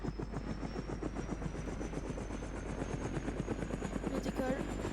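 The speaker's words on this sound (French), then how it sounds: "Je vais essayer d'y aller avec l'hélicoptère" A video-game helicopter lifts off with a steady, rapid rotor thrum and a droning engine whine that hold at an even, moderate level throughout, with no voices over it.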